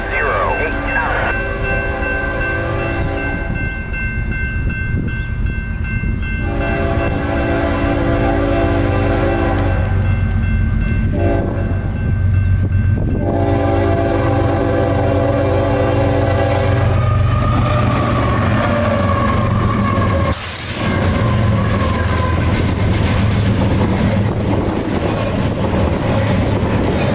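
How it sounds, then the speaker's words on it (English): A BNSF eastbound intermodal freight train on the Chillicothe Subdivision in Chillicothe, Illinois rumbles past close by with a continuous heavy roar, sounding several long, loud horn blasts in the first half. "The third eastbound intermodal approaches."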